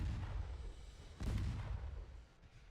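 Naval guns fire in Ultimate Admiral Dreadnoughts, a low distant rumble of cannon with one heavier boom near the middle, no voices.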